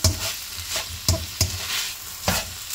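Minced meat stir-fried on a high flame sizzles steadily close by, broken by several sharp scraping stirs of a spatula against the pan at uneven intervals, with no talk.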